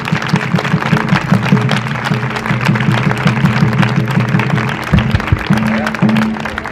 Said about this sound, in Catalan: Un aplaudiment per elles, per ells.